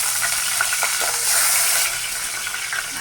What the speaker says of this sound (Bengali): এখন আমি এখানে তেল দিব দুইটা তেজপাতা দিব আর দুইটা শুকনো মরিচ দিব